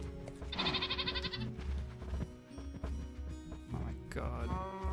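A Minecraft video game goat lets out a loud, quavering bleat early on and a shorter one near the end, with a person talking in between.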